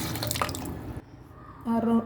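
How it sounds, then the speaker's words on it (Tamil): Water splashes and pours steadily into a metal pressure cooker close by, about two litres for goat leg soup, with a voice speaking over the start of the pour. "2 லிட்டர் அளவுக்கு தண்ணி சேர்த்துக்கலாம்"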